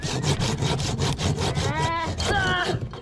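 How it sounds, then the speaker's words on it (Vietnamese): Hand saw cutting through a thick board, with quick, steady back-and-forth strokes rasping loudly and close, alone without talk. "Giờ mình sẽ cưa cái phần dán này ra."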